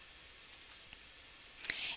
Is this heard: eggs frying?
no